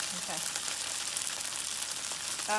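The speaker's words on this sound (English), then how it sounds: "we're just gonna put it in here and we're just gonna pan fry them" Radish cake (chai tow kway) pan fries with a steady, soft sizzle and hiss throughout. A brief vocal sound rises near the end.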